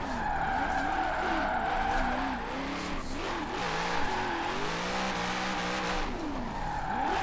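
A C8 Corvette drifts and skids in Forza Horizon 4, its tires squealing in long wavering howls over a steady, loud engine drone that rises and falls with throttle changes, with no pauses throughout.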